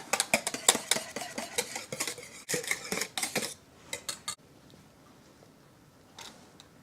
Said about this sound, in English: Just like the other, we're going to whisk it together.